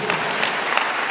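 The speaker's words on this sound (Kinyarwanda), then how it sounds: "uriya muntu ni mumuha amashyi" Brief burst of clapping from a small gathering at a church wedding ceremony, dense and even for about a second with no voices over it.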